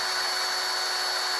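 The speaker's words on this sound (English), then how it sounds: "you'll find there's a spot that you can just have the drill where it's not catching" A power drill running steadily at speed while cleaning 1:100 scale hand rails, a continuous loud high-pitched whine with no breaks, close and alone.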